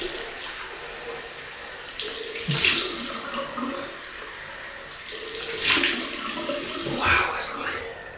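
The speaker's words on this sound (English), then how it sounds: "Cold water rinse." A bathroom tap runs cold water for a rinse after a double-edged razor shave, a steady close splashing with louder surges as hands and face pass through the stream.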